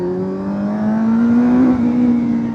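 A Kawasaki Z900 motorcycle fitted with a TMC aftermarket air filter gives a loud, close engine and exhaust drone whose pitch climbs steadily, then holds.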